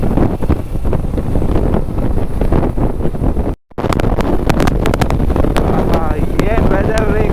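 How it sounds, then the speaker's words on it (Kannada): Strong wind buffets the microphone while riding a motorbike on a cold, windy road, a loud continuous roar with brief gusty spikes as a person talks under it. "ಇವತ್ತು ಏನಂದರೆ ತುಂಬ ವಿಂಡ್ ಬ್ಲಾಸ್ಟ್ ಇದೆ."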